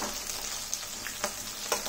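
Fresh coconut pieces fry in a pan with green chillies for a hotel-style coriander and mint chutney, giving a steady, soft, even sizzle with a few faint pops, close by and alone.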